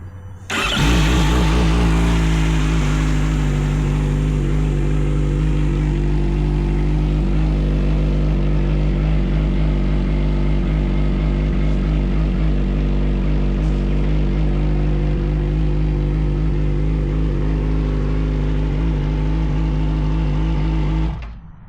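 An old engine parked since 2014 runs steadily after a new fuel pump is fitted, starting up and holding a loud, constant idle with a deep throbbing drone for the whole stretch, no voices over it.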